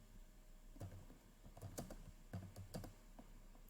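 Fingers typing on a computer keyboard while writing a presentation, a few quiet clusters of close key clicks separated by short pauses over a faint hum.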